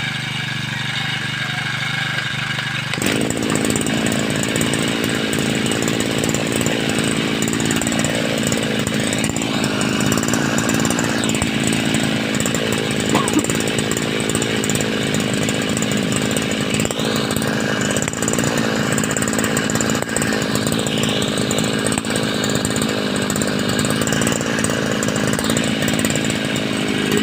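A small two-stroke Fujiyama CG411 brush cutter engine roars steadily and loud after a brief quieter idle, its pitch rising and falling with throttle changes throughout.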